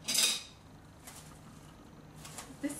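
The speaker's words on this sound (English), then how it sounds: "We give it another stir." Henna paste stirred in a bowl, a few faint scraping and clinking touches of the utensil against the bowl, one louder at the start and another near the end, with no voices.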